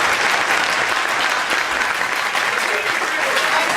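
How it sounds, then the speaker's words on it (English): Loud, continuous applause from a close audience, dense clapping sustained evenly throughout with a faint murmur of crowd underneath. "Let's give her a round of applause."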